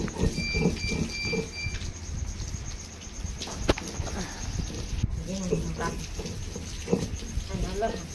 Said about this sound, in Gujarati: જો વરસાદ એમ આજે ચાલુ જ છે।